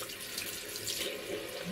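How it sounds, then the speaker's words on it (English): Water runs steadily from a tap as something is rinsed out, a continuous soft splashing hiss close by, heard alone. "I'm gonna rinse it out now with some water"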